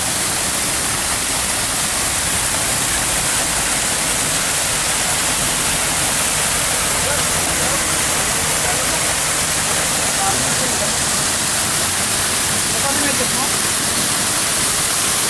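Tarimes Falls, a waterfall at a tourist spot in Mount Rodriguez, Rizal, roars as a loud, dense, unbroken rush of falling water, very close and constant throughout, with voices likely speaking beneath it.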